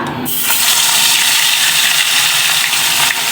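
Water pours into a cooking pot in a steady, loud gush that keeps going for a few seconds, with no voices over it.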